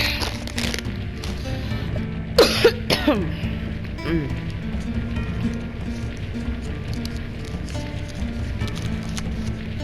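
Coughing and throat clearing during a video game session, a few harsh bursts around the middle over steady background noise, fairly close.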